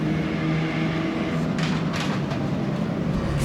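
VW Golf MK5 diesel and petrol race cars lapping a track, a steady roar of engines and road noise with brief bursts of tyre squeal as they push through a corner.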